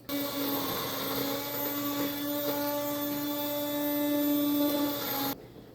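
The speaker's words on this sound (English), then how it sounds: "we are going to use my immersion blender and get it completely smooth" An immersion blender whirs steadily through barbecue sauce, a constant motor whine that runs for about five seconds and then cuts off abruptly.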